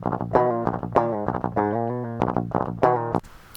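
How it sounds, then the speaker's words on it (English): Clean DI electric guitar with the Audio Assault Bulldog Super Lead amp sim and stomp boxes switched off, only a noise gate active: a handful of plucked notes and short chords, dry and thin, each decaying before the next, cut off abruptly near the end. "the DI guitar sounds like this when you have the amp disengaged"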